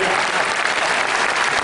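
A crowd claps for a speaker at a Hindi-language talk. The applause is dense, close and steady, with no break in its brief span.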